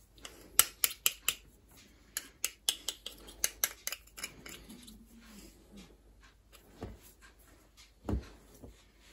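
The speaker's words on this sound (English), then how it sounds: "let's just get this extra bit of pastry cut off." Excess rough puff pastry is trimmed from homemade beef pies, producing a quick series of sharp, close cutting clicks, then sparser snips and faint handling noise.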